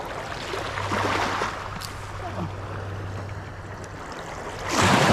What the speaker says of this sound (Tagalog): yung laki ng alon